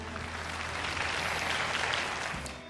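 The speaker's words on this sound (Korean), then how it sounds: "자신의 열정을 보여준 청년에게 다시 한번 큰 박수 부탁드립니다" An audience at a Korean business program applauds a young man, a brief wash of dense clapping, fairly loud and continuous, without speech.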